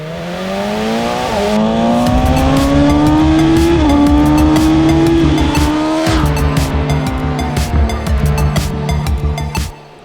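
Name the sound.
sport motorcycle engine revving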